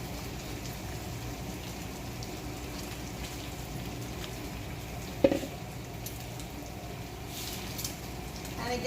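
Green beans being added to a hot skillet of cooked-down onions, giving a steady, even sizzle and crackle throughout with one brief clatter midway.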